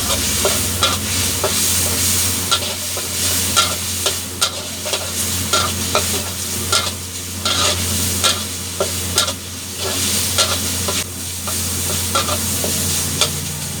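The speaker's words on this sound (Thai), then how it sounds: "ผัดต่อให้แห้งเลยนะครับ" Garlic beef being stir-fried in a pan, with a steady sizzle under repeated sharp scrapes and clanks of the spatula against the pan, close and fairly loud, no talking.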